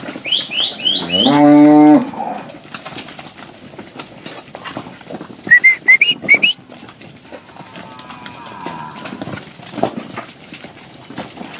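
Cows moo loudly and close by on a farm during milking in the countryside, one long low call followed later by a few shorter bellows, with faint hoof clopping and rustling around the pen.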